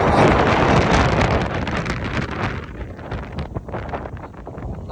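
Strong wind roars and buffets close by on a road trip from Kolkata to Ladakh, a loud, continuous rushing noise that eases slightly toward the end.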